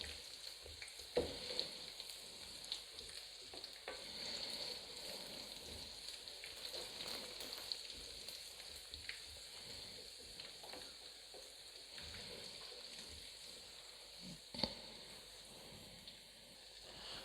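Whole bay leaf, black cardamom, cloves, black pepper, cumin and a star anise sizzle faintly in hot oil, a steady quiet crackle with a few sharp pops and stirring clinks.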